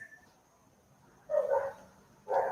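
A neighbour's dogs bark at a distance in two short bursts, faint and muffled behind a quiet room tone.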